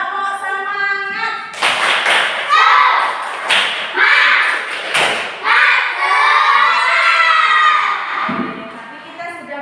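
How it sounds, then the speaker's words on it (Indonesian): A school class in an Indonesian lesson performs a tepuk semangat spirit clapping chant, with rhythmic group claps and thumps mixed with loud children's chanting voices, sustained close throughout. "Yuk, tepuk semangat."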